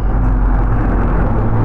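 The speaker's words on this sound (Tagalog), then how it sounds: "Tapos yung tunog ng makina, yung andar niya tahimik pa rin." A Rusi RFI 175 motorcycle engine idles with a steady low rumble, evenly and close by, with no change in pitch and no other sounds.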